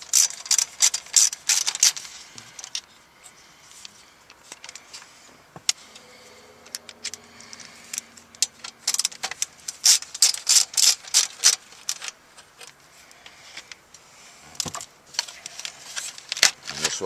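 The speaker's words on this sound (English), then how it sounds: "I'm going to turn the assembly over and remove the two front colored screws again." Screws being worked out of a Mazda 6 Bose stereo assembly: repeated bursts of sharp ratcheting clicks and small metallic rattles, close and fairly loud, with quieter pauses in between.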